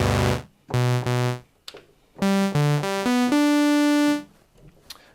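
A sequence of sustained, bright electric-piano-like notes from a Prophet 6 synthesizer, a couple of chords followed by a rising run of tones ending in one long held note, with brief pauses between.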